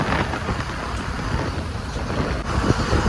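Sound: strong wind over the sea on a boat

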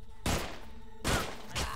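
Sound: explosions in the video game Utopia 9

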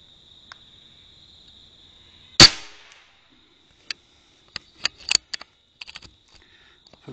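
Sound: three gunshots fired at a holdover target

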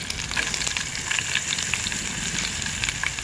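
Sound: green chillies and onion frying in tempering oil

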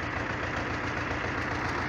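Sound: T-25 tractor engine running a baler

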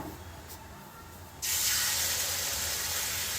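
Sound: two ladles of batter sizzling in ghee on a hot pan

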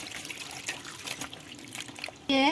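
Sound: washing raw green bananas in water

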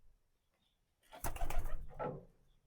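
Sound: pigeons cooing

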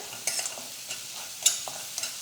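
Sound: stirring turmeric and salt into frying masala

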